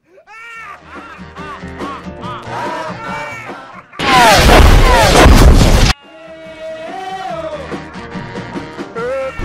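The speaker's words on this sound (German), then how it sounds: "Das ist ja Artillerie." Artillery fire erupts in a loud, rumbling two-second barrage of booms and crashes, set between stretches of people talking.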